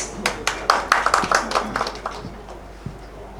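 Scattered applause from an audience at a human rights organisation's foundation-day event as a guest speaker is invited to the dais, a short burst of claps that thins out and fades within a few seconds.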